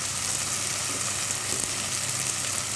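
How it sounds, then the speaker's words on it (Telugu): Whole spices sizzle in hot oil in a pan for Telangana-style bagara rice, a steady close crackling hiss with no break and no talking. "అన్నీ చక్కగా ఫ్రై అవనిద్దాం."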